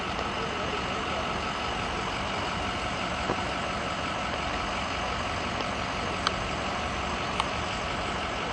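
A sewer truck idles on a street, its engine a steady, continuous rumble filling the background, with a couple of faint clicks on top and no break in the drone.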